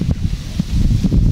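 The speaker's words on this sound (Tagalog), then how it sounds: "Mahangin." Wind buffets a microphone outdoors at a fishing spot, a low rumbling gust that swells and steadies over a second or so, with no talk.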